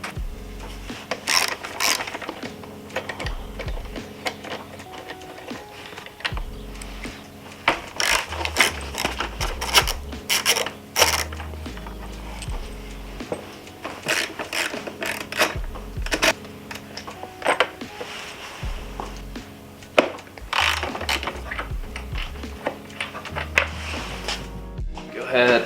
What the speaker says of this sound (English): The first thing we're going to do is remove these two fasteners on both sides of the bike.